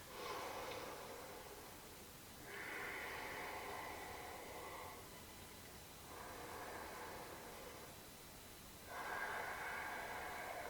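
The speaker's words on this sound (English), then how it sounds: "2 breaths here. Deep breath." Slow, deep breathing during a gentle yoga session: soft airy inhales and exhales in long, even cycles, close and quiet, with no talking.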